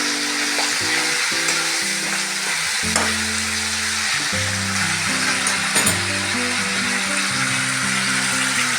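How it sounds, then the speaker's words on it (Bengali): Cumin seeds and three green chillies fry in a spice mix in hot oil, making a loud, continuous close sizzle and crackle that stays steady throughout, with background music playing underneath. "দিয়ে মশলাটা ভালো করে ভেজে নেব।"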